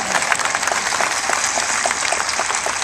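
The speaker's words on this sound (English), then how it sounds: "you can applaud" A large audience at a Johns Hopkins speech by Bloomberg breaks into steady, dense applause, loud and continuous throughout with no pauses.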